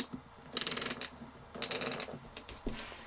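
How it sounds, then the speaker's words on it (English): A BOA dial on a safety boot being turned clockwise to tighten its steel cable, giving two bursts of rapid, close ratcheting clicks separated by short pauses, with a few soft handling knocks on a workbench. "There's a click sound, and I turn the dial clockwise, and it tightens the steel cable inwards."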